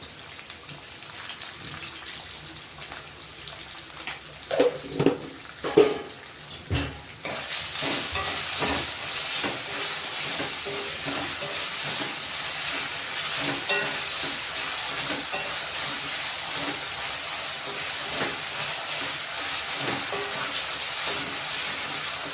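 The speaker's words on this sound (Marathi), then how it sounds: "शेंगदाणे मिरची चांगलं भाजून घ्यायचं तेलामध्ये, मस्त परतून घ्यायचं खमंग." Diced potatoes, peanuts and chillies for a fasting dish hit hot oil. A few spoon clanks and knocks in a quiet pan give way to a strong steady sizzle as stirring continues, close up with no speech.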